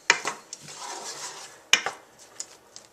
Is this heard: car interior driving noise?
no